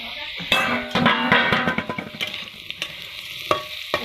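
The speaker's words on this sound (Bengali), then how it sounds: "যে আলুটা ভাজা হয়ে গেল, এখন একটু তেল দিয়ে দিব।" Potatoes frying in oil, a bright sizzle broken by repeated stirring and scraping knocks, close by with no talk.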